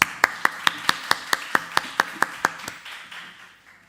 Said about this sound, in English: All right, so let's clap them again.